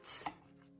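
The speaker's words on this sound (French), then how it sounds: "Donc je vais couper mon 12 cm." A single short, crisp snip of scissors cutting through a sheet of watercolor paper, close and fairly quiet, followed by a faint soft rustle.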